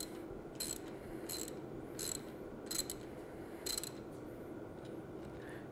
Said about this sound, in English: So I have 3/4-inch wrench and 3/4-inch socket.